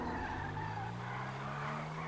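A Pariah sports car in GTA Online skids hard across the pavement, its tires squealing in long sustained streaks over a steady engine roar, loud and close throughout with no talk.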